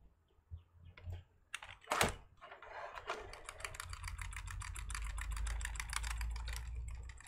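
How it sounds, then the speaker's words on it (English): Rapid, repeated tapping on a single key of a computer keyboard at boot on a Dell Alienware X51 R2 desktop, a steady run of close, crisp clicks over a low machine hum, starting sparse then quickening. "I'll turn the computer on, keep tapping F12"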